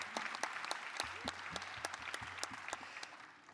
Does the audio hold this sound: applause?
yes